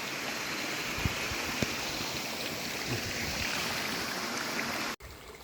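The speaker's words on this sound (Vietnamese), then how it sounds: "Đi theo suối luôn." Forest stream flowing steadily in a continuous broadband wash of running water, with a few faint knocks, cutting off abruptly near the end.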